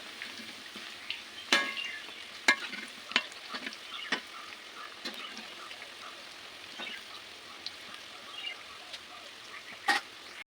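Cauliflower pieces for chilli gobi deep frying in oil, a faint, steady bubbling sizzle broken by occasional clicks and knocks of a utensil turning the pieces.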